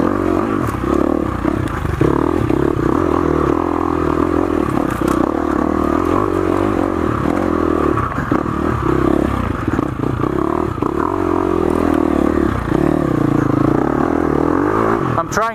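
A 2019 KTM 350 XCF dirt bike ridden over loose rocks, its engine droning and revving continuously up close while the chassis clatters and scrapes, with a rider's voice mixed in.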